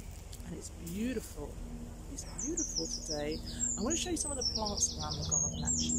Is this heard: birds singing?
yes